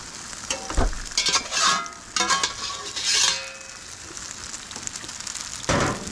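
Tomatoes frying in a pan for chicken tortellini give a steady close sizzle, broken by several louder scraping bursts of stirring, with no talking.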